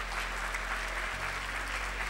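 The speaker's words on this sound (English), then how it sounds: "Can we get a huge applause for Mythical's commentary?" An audience at the AGDQ 2019 speedrunning event applauds continuously, a dense wash of clapping that holds at an even level for the whole moment.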